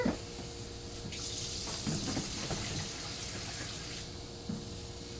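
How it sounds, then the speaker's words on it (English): Water runs steadily over a tray of growing wheatgrass, a close, continuous splashing pour lasting several seconds, with a couple of soft knocks in the mix and no talk. "I'm going to give it a quick water."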